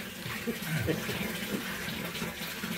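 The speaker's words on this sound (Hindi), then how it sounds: "यानी पूरा कुआं ही पानी से भरा दिया गया" Water pours and splashes steadily into a well, a gushing fill like a bucket emptying into deep water, with faint voices under it.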